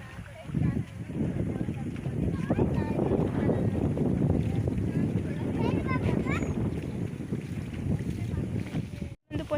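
Water slaps and splashes hard against a boat under heavy wind noise, a loud, continuous rushing churn with irregular bursts, while people talk over it.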